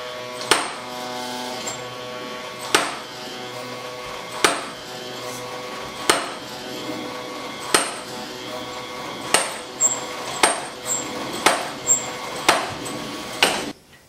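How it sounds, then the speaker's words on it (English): Repeated sharp wooden knocks of a Leonardo da Vinci-style wooden cam hammer driven by a drill, first spaced a couple of seconds apart, then quickening, over a steady mechanical hum. "I built this cam. It took me a few tries to get it right."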